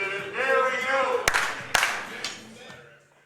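Scattered hand claps from a small group at a 2019 Northwest Cup match, a couple of sharp claps standing out over an ongoing voice and a murmur of people nearby.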